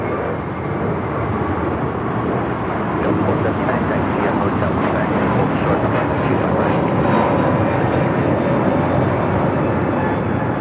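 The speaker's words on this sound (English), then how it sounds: "This is United Airlines 1260 taking off to Denver, Colorado on the A321neo" A United Airlines Airbus A321neo takes off at LAX for Denver, its jet roar building louder and rougher around the midpoint and holding strong, with wind noise on the microphone.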